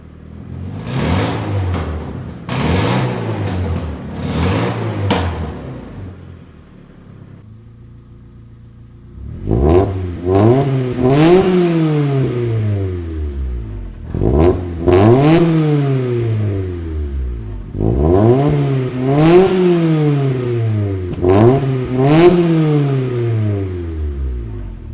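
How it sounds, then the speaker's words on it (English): A Honda CRX engine with a custom exhaust system revs up and down repeatedly, each rising and falling roar of the exhaust separated by short pauses near the microphone. "let's finally cut to the before and after sound clips that I got of the exhaust system working out"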